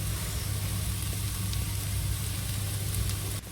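Beansprouts and carrots stir-frying in a pan, a dense, even sizzle and hiss held close and steady before dropping slightly at the end.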